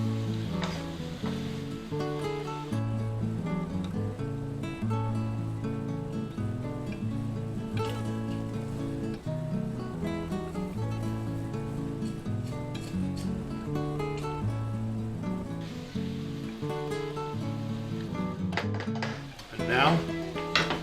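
Eggplant frying in olive oil in a pan gives a steady sizzle with occasional stirring clinks, while a person talks over it throughout.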